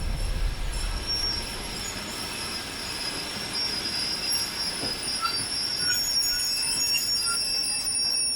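A train rolls along the rails with a steady low rumble, metallic wheel squeal ringing high above it throughout, loud and close.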